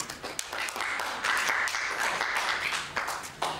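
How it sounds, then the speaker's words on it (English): A comedy show audience claps steadily for a few seconds, a dense patter of hands that swells slightly midway and stays fairly loud throughout. "I think that deserves a clap."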